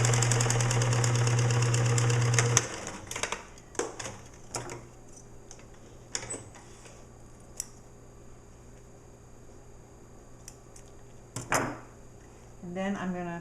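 A sewing machine bastes fabric for a boy's hat in a short, fast, whirring run that stops abruptly, followed by scattered clicks and handling noises of the fabric and machine.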